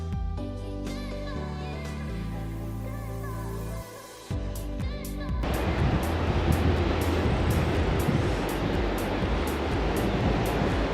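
Ocean surf breaks on a sunny beach at Plettenberg Bay, a steady broad wash of waves and wind that swells louder and fills the second half after an opening stretch of music.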